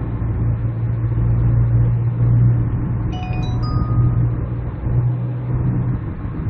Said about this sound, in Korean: 자동차 소음도 많이 좋아져요.